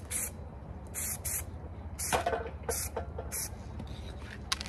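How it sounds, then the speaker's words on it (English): Short bursts of aerosol spray paint hiss as a light coat goes onto a truck part, several separate puffs of varying length, close and fairly quiet. "let's get spraying"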